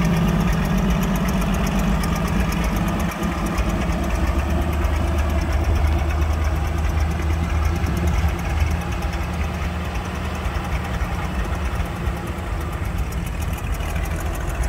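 An Allis Chalmers WD-45 tractor engine with a leaking valve runs steadily and loudly at a constant pace, with a rough, knocking rumble throughout.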